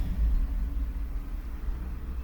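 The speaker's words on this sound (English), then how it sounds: "really big car passing, and it's making a lot of noise." A big vehicle passes outside as a deep, steady rumble with broad noise, heard alone for a couple of seconds.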